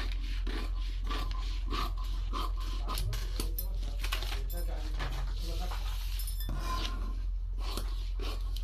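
Scissors snip and rasp through fabric while a katori blouse piece for a 30-inch size is cut out, with busy, close crisp cutting and rustling sounds throughout and faint background speech.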